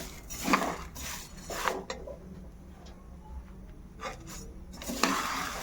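Grains for a multigrain health mix dry-roasting in a pan, stirred with a utensil that scrapes and clinks against the metal in several brief bursts, close by with quiet gaps between.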